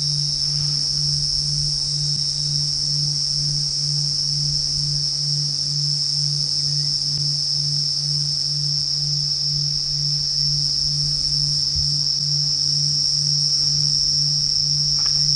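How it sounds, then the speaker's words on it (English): Crickets chirp in the African bush at sunset, a dense, unbroken high-pitched trill held at an even level throughout, with a faint low hum underneath and no voices. "have a listen to all the crickets. They're buzzing about."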